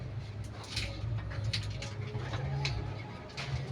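Pigeons coo softly in a low, repeated rolling murmur, close by, with faint rustling and small scratchy noises over the top.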